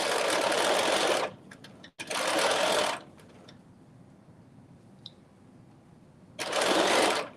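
Domestic sewing machine basting an overlay onto dress fabric, running in two loud bursts, a short pause, then a third burst after a quieter stretch with faint handling sounds, no talking.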